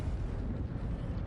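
A Confringo spell blast in the video game Hogwarts Legacy: a continuous, loud low rumbling roar with fiery crackle, dense and steady throughout, heard alone with no voices.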